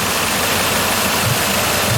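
A 2005 Ford Escape 3.0L V6 idles with a steady, loud, even engine hum and no breaks, heard close up.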